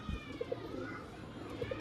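Pigeons of a fancy show breed coo softly in a loft, with a few rounded, throaty coos in two pairs against a steady low background hum.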